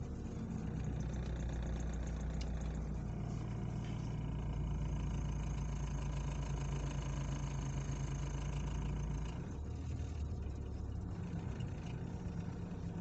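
A car engine idles steadily on its own, its low drone rising and falling slightly as the revs wander between about 900 and 1200 RPM, with a faint knocking texture and no talk.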